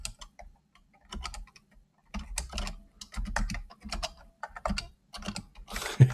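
Fingers type in bursts on a computer keyboard, close clicky keystrokes in quick runs separated by short pauses, ending with a louder clack.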